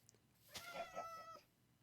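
Cats meowing in the video game Minecraft: a single drawn-out, tonal meow of moderate loudness, heard alone against a quiet background, with a faint short chirp just before it.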